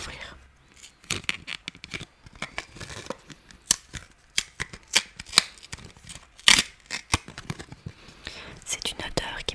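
A Nuxe beauty product box from a Blissim subscription package is opened up close, with crinkly tearing, scraping and tapping of packaging, mixed with soft whispering.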